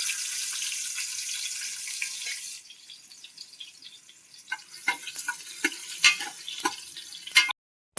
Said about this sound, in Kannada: ಒಂದೇ ಒಂದು ಚಿಕ್ಕ ಈರುಳ್ಳಿ ಹಾಕ್ತಾ ಇದ್ದೀನಿ